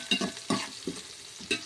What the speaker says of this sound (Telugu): ఫ్రై అయ్యాక ఉల్లిపాయ ముక్కలు, పచ్చిమిరపకాయ ముక్కలు ఫ్రై చేసుకుందాం